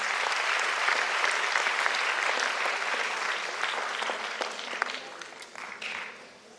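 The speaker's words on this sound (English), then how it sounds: "Give her a big round of applause." An audience at a Times of India NIE school event claps in a broad, steady wash of applause that holds for several seconds, then gradually thins and fades toward the end.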